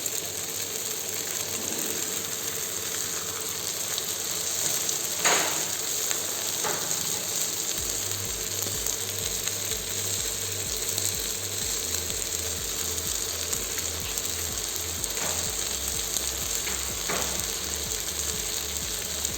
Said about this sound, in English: create a well, add some oil, Crack 2 eggs.